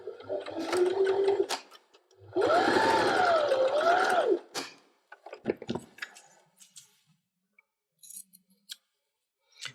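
Sewing machine stitching straight across beeswax fabric for a snack bag, two bursts of whirring with rising and falling motor pitch, followed by scattered clicks and handling sounds before falling quiet.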